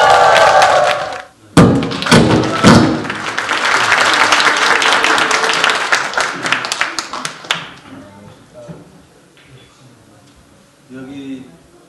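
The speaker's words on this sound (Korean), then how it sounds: "큰 박수로 모시겠습니다" Audience applause welcoming a guitarist onto a stage, a burst of loud clapping with a few thumps that swells and then gradually fades, followed by quieter room sound and some speech.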